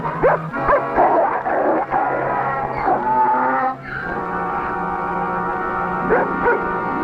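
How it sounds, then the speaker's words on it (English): A dog yips and barks in short, high bursts, some whining in between, fairly close. "Get away, dog!"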